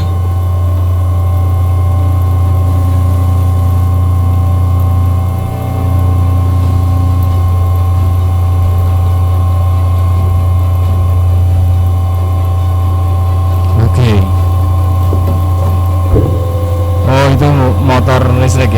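A 10 kW electric motor driving an alternator spins steadily, giving a loud, constant mechanical hum with strong low tones, briefly joined near the end by clatter and a short burst of other noise.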